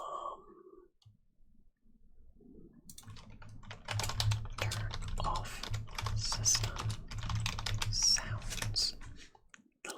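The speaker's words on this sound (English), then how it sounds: "Little typing ASMR for you there." Keyboard typing on a computer at a desk, a steady stream of close, quick clicks over a low hum, with a brief spoken bit at the start.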